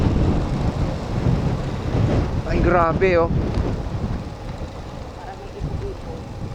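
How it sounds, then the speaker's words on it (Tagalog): Strong wind buffets near Taal Lake in a steady, loud rumbling roar, while a voice briefly exclaims over it. "Oh, ang lakas ng hangin."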